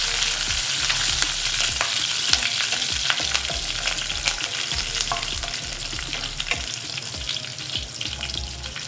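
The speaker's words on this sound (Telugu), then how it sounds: "పచ్చిమిరపకాయలు అండ్ ఈ కరివేపాకు అనేది చక్కగా వేగిపోయింది" Green chillies and curry leaves fry in hot oil on a low to medium flame, a dense, steady sizzle with repeated rhythmic scraping and tapping of a spoon stirring throughout, close and without speech.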